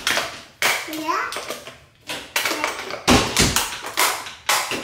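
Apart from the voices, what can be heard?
child banging through a door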